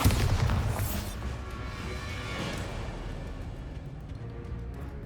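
A Bombarda spell detonates in Hogwarts Legacy, a loud booming blast at the start that rolls off into a rumbling, noisy wash and fades slowly over several seconds.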